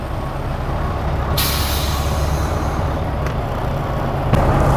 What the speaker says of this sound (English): you're gonna press only the yellow brake in, put it in drive, and you're gonna look at the upper mirror and you're gonna forward the truck